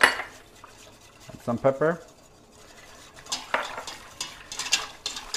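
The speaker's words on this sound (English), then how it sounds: "like any milk-based sauce, you need to whisk all the time." A milk-based egg sauce is whisked in a pan, with close, busy clinking and scraping of metal against the pan in bursts; a voice speaks briefly early on.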